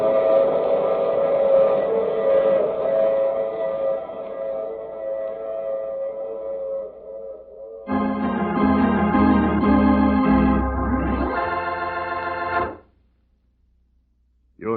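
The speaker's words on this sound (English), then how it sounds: "I take this same train every week at the same time." Train sound effect in an old radio drama, a long moaning whistle blast followed by a louder rumbling chug with overlapping whistle tones, then an abrupt cutoff into silence.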